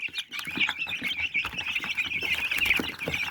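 A brood of chicks in a poultry pen peeps continuously in dense, high, overlapping chirps, close and steady throughout, with no voices.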